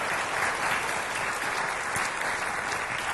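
Audience applause at a university fall welcome address, a dense steady clapping from a large crowd that holds evenly for the whole stretch with no voices above it.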